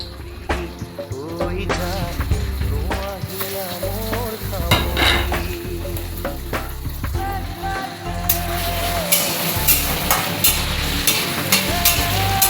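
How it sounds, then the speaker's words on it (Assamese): Paneer pieces frying in hot oil in a kadai, a close, continuous sizzle with stirring scrapes and occasional clinks of a spatula against the pan. "কেৰাহীটো তেলখিনি গৰম হৈ গ'ল, এতিয়া পনীৰখিনি দি দিম অকণ কৰি।"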